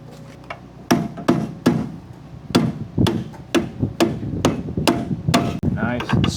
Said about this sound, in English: We're going to need the rubber hammer.